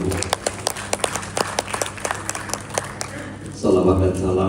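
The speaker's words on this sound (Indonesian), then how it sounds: "Tepuk tangan untuk" Applause from an audience gathered for a mayor's welcome speech at a free eyeglasses donation event, a run of scattered, fairly near claps that thins out before a voice takes over.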